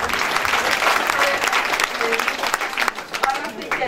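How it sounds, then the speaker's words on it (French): Audience applause for a poetry competition prize winner at a university ceremony, dense steady clapping from a large hall crowd with a few voices calling out over it. "Des applaudissements pour le récipiendaire"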